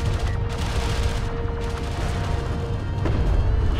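Armored assault vehicles firing in Homeworld: Deserts of Kharak, a dense, loud rumble of sustained gunfire and booms blended into continuous battle noise.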